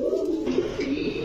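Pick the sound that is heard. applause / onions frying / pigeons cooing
pigeons cooing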